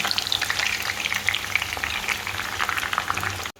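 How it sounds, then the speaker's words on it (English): Onions fry in a mix of palm oil and groundnut oil, a close, bubbling, crackling sizzle with light stirring, steady throughout and cutting off abruptly. "then you add your onions. We let our onion fry"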